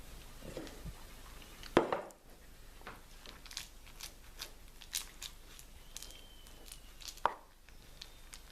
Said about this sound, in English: Cut it into pieces.